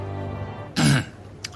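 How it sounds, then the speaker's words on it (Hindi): A man gives one loud, harsh cough or throat-clear, sharp and close, alone over a faint steady background, with a small second catch just after. "सभी का ध्यान अपनी ओर आकर्षित करने के लिए जोर से खांसी की"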